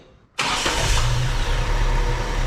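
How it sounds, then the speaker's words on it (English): After a brief quiet moment, a Datsun engine with a Weber carburetor fires up abruptly and settles into a loud, steady, rumbling idle close by. "Let's make sure it can fire up good."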